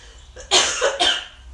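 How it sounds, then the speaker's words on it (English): Two sharp coughs in quick succession, close and fairly loud, with near silence before and after. "Excuse me, I'm gonna have to cough"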